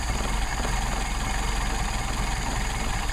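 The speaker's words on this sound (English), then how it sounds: "I'll give you an idea how nicely the machine work turned out to be able to idle that low" A Mercedes 190SL engine on Solex carburetors idles low and steady, a dense continuous rumble close by with no other sounds.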